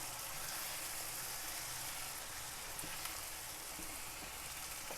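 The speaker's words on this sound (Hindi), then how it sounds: "ये 2 टमाटर मैंने चॉपर में इन्हें मिक्स किया हुआ है, ये इसमें डाल देंगे। अब इसे मिक्स कर लूँगी मैं।" Chopped tomatoes stirred into a frying vegetable mixture for chicken kebabs in a pan: a faint, continuous sizzle with a few soft spoon knocks, and no voices.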